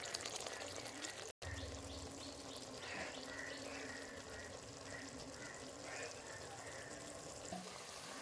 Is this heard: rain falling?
no